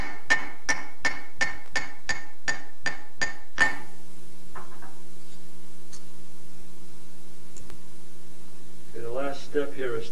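A series of about nine sharp, ringing hammer blows struck at a steady rhythm on a silver bowl sunk into lead in a silversmith shop, then a low hum, and a voice at the end.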